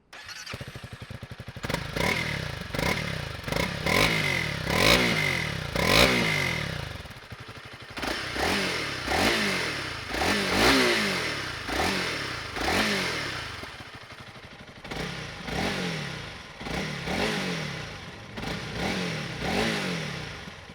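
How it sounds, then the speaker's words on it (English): A 2022 Honda CRF300L Rally motorcycle fires up and idles briefly, then its single-cylinder engine is blipped in repeated sharp revs that rise and fall roughly every second, loud and close with no talking. "let's start it up and show you what she sounds like"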